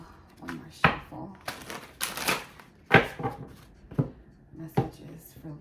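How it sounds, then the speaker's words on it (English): Tarot cards are shuffled in short, crisp bursts of riffling and tapping, close by, with quiet gaps between them. "One more shuffle."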